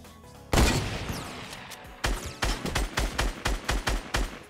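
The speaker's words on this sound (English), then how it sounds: "there's gunshots like right over this way" A loud burst of gunfire is followed by a rapid run of about ten evenly spaced shots, sharp and close, from the video game Fortnite Battle Royale.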